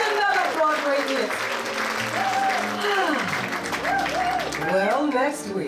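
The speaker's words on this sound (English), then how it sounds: "listen to that applause!" Audience applausing at a Broadway show's opening night on an old radio broadcast, steady clapping throughout under an announcer's voice and music.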